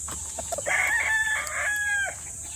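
A rooster crows twice in clear drawn-out calls at a hillside poultry farm, with chickens around and faint background clucking, moderately close and without talk.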